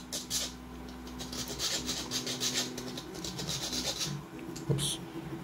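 A mini hacksaw fitted with a fine-toothed jigsaw blade cuts through wood by hand, making close, steady rasping strokes in an uneven rhythm, with a sharper scrape near the end.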